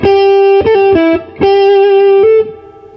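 Electric guitar playing a 12-bar blues lick in G, distorted single notes with bends and slides, loud and close, in a short phrase with a brief pause before a final sustained note.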